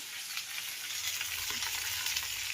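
Green chillies roasting in a pan give off a steady, dense sizzle and crackle that runs without a break, close and fairly loud, with no voices.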